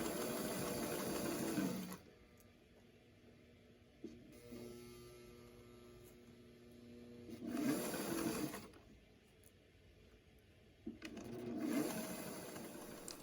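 A free-arm sewing machine stitches sleeve seams, a close, steady motor whir in three runs of about two seconds each, separated by quieter stretches of low hum and small handling sounds.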